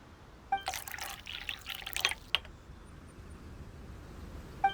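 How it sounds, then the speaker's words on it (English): Tea brewing in the Genshin Impact video game: brief liquid pouring and dripping sounds with clinking, coming in a few short bursts over a quiet background. "Perhaps I should try my hand at making us a pot of tea."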